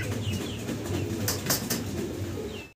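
Pigeons coo softly at a pigeon market, low murmuring calls under a busy background with a couple of brief wing flutters or rustles.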